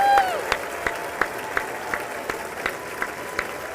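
Applause at the State of the Union address is heard at a distance, a soft wash of clapping with a few distinct claps rising at regular intervals.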